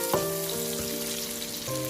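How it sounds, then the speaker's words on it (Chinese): Pork belly with garlic and small chili peppers stir-fried in a hot wok, a steady close sizzle with a few brief clanks of utensil against the pan. "再快速的翻炒，炒出香味"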